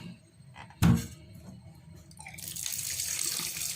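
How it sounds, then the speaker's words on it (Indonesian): Fresh water from a tap fills a cooking pot for a chicken and banana-stem vegetable soup, a steady rushing hiss that builds after a brief thump and runs on, close and fairly loud. "Kita isi dengan air baru bos"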